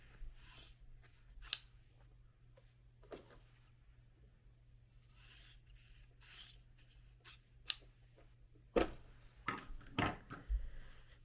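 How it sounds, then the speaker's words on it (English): Scissors snip through quilting fabric in a quiet room, a few sparse, crisp cuts scattered through near silence, with a cluster of louder snips and handling noises toward the end. "Or you can take your scissors, handy dandy scissors, and just eyeball it,"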